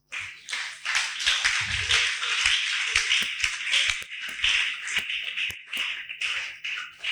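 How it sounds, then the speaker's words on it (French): A church congregation claps along during a worship service, a dense steady stream of hand claps running from start to finish at moderate loudness, with faint voices beneath. "Applaudissez un peu le Seigneur"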